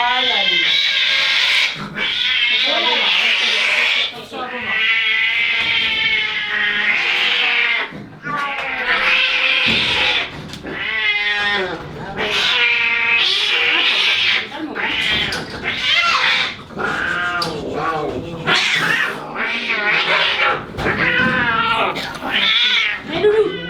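An angry cat being treated at an animal shelter in Colmar yowls and caterwauls loudly and almost continuously, with long drawn-out wails and growly meows close up, while people talk over it.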